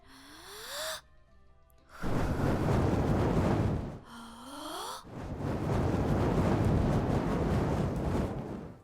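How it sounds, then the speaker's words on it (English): A dragon breathes fire to light a bakery oven: two long, loud roaring whooshes of flame, each lasting about three seconds, separated by a short gap and each preceded by a deep rising growl-like inhale. "it is simply easier to use my breath to light the ovens"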